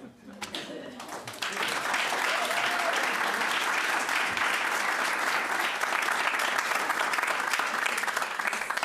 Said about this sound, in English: Please refrain from applause or other reactions that are disruptive and not productive